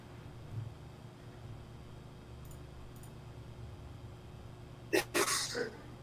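A single sneeze bursts out near the end, loud and close, after a stretch of quiet room tone with low background hum; someone at a tabletop game session.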